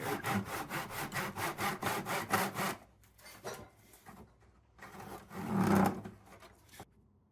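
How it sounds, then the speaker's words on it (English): Hand saw cutting wood at a 45-degree angle in a miter box: rapid, rhythmic rasping strokes close up, then a pause, a few slower scrapes and a final louder burst of sawing. "Next, I cut the 45-degree angles on the wood. You can use a miter box like this"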